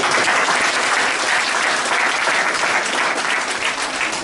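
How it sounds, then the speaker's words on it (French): An audience claps steadily at an indoor gathering, dense, loud and sustained throughout with no voices over it. "Je voudrais vraiment que vous puissiez vous applaudir."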